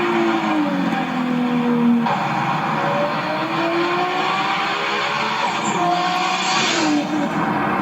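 A street racing car roars past on the road, its engine rising and falling in pitch with revving shifts and a faint tire squeal, loud and close throughout.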